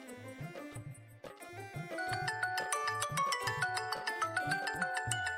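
A mobile phone ringtone for an incoming call sounds in a home scene, a repeating electronic melody that starts softly and grows louder and fuller, looping steadily for several seconds.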